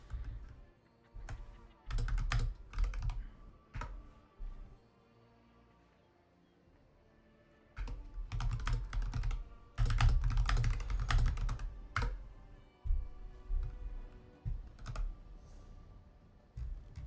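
Rapid computer-keyboard typing rattles close up in irregular bursts, several fast flurries of clicky keystrokes separated by brief quiet gaps, loud and near with the keys sounding cramped around a microphone.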